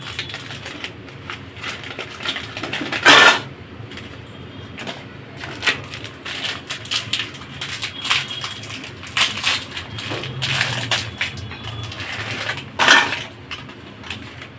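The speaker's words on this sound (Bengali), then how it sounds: "এবার প্যাকেট থেকে আমরা বিস্কুটগুলোকে খুলে নেব।" Oreo biscuits are pulled from their packets with crinkly plastic rustling: two sharp, loud crackling bursts several seconds apart, separated by softer intermittent handling rustles close by.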